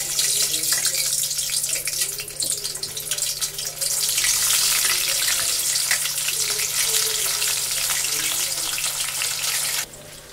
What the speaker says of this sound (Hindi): अब हम इसमें डालेंगे सोया चाप।